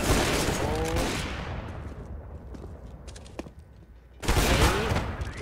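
Gunfire in the tactical shooter CS:GO: a burst of sharp shots up front, quieter scattered clicks and movement, then another loud volley near the end.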